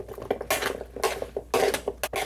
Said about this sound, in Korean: 숟가락을 이용해서 애호박에 소금이 잘 묻혀지도록 잘 섞어줍니다